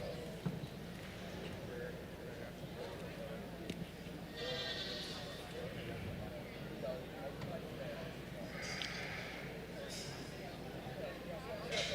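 Goats bleat at an FFA lamb and goat livestock show, several bursts of calls rising over steady crowd murmur and people talking nearby.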